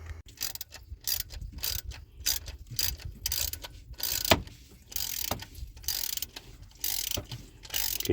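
Ratchet loosening 10 mm bolts on the water pump of a 2004 Chevy Silverado, heard close up as quick bursts of rapid clicking separated by short pauses, with no talk.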